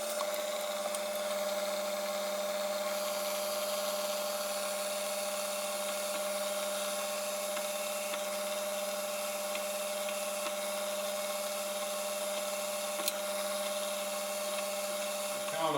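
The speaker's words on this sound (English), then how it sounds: "using the center drill and putting it way up in the chuck, it gives me a nice spot" A center drill mounted high in a lathe chuck spots an aluminum hubcap for a scale model airplane, giving a steady, even machine whine with a constant hum throughout and no break.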